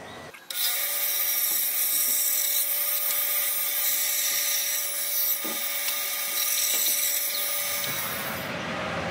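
A band saw cuts a box shape from cedar and white pine, whining in a steady, loud, high-pitched tone close by with slight pitch shifts as the blade moves through the wood, then stops at the end.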